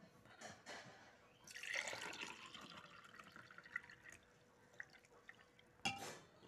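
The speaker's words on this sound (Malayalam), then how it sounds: "ഇനി നമുക്ക് ജ്യൂസ് ഗ്ലാസിലേക്ക് സെർവ് ചെയ്യാം" Mint lime juice trickles and pours into a glass in soft, faint splashes and drips, with a brief louder gush partway through and a small clink near the end, in a quiet room.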